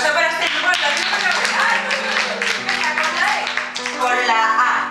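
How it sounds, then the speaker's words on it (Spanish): A group in a children's rights training session gets a burst of dense clapping and tapping from a small crowd, steady and close for several seconds, with voices talking over it. "Un aplauso para este grupo."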